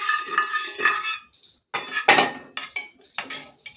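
A spoon spreading butter across the base of a pressure cooker pan, heard as close, bright metallic scrapes and clinks in short irregular bursts with brief gaps.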